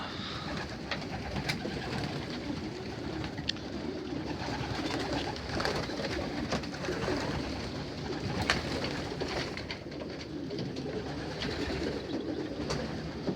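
Young racing pigeons in a one-loft race loft coo repeatedly in soft overlapping calls, close and moderately quiet, over a steady background hum.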